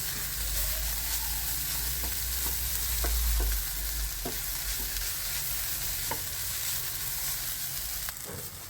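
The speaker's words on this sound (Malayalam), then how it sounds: "ലേശം ചപ്പും വേപ്പിലയും നല്ലപോലെ മിക്സാക്കാം" A mix with curry leaves sizzles steadily in a hot pan while a spoon stirs it, with scattered scraping clicks over the continuous close frying hiss.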